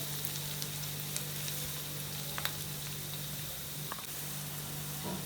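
Onions sautéing in a pan for a dry chicken varuval give off a quiet, steady sizzle, soft and even throughout with a few faint stirring ticks.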